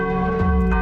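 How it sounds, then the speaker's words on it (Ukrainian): Church bells ring out as a chemical-danger alarm signal, a loud, close, resonant peal with sustained humming overtones and a fresh strike near the end, with no voices over it. "звук церковних дзвонів"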